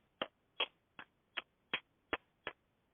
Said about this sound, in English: tell me that was you clapping for yourself